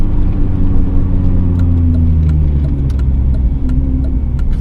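Inside a car fitted with a Japspeed single-exit exhaust, a loud, steady engine drone held in third gear, with pitch slowly rising and settling and faint clicks above, no talking.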